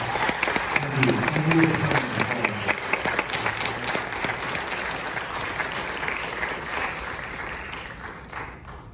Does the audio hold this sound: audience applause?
yes